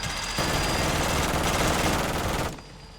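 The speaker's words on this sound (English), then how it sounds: "And now it'll just start shooting zombies that are around." Automated turret in MW3 Zombies firing a rapid, continuous burst of gunfire for about two seconds, loud and close, then cutting off abruptly.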